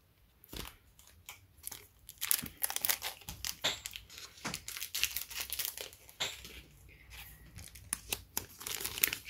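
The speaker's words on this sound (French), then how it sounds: "on va décoller ces cartes qui collent décidément vraiment beaucoup" Stuck trading cards from a Goddess Story pack are peeled apart: faint, close crinkling and soft tearing rustles in irregular bursts, with quiet handling noises between them.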